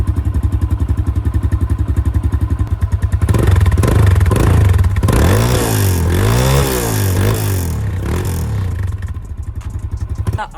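A Kawasaki 140 dirt bike engine, close and loud: a steady, fast-pulsing idle, then repeated revs that rise and fall sharply before it settles back toward idle.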